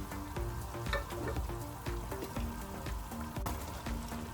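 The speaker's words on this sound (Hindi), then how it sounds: "गोश्त को इस मसाले के साथ कुछ देर भुनाई करेंगे" Beef pieces frying in spice masala in a pot for beef pulao, a dense crackling sizzle with bubbling pops and occasional stirring scrapes, steady and close.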